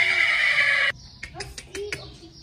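A stallion whinnies loudly for about a second, then a few soft clip-clopping hoof knocks follow nearby.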